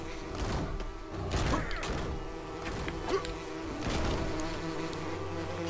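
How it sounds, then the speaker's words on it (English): Bees buzzing in LEGO The Hobbit video game, a continuous droning hum with swells as the insects move about, fairly loud and alone. "So there are bees up."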